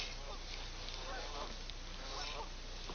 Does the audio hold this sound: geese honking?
yes